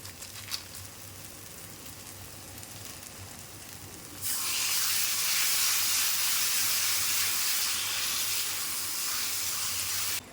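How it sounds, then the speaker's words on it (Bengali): Spices sizzling in oil for mutton curry, including Kashmiri chili powder, giving a continuous hiss that jumps much louder and brighter partway through, with no talking. "মশলাগুলো ভালো করে কষিয়ে নেব।"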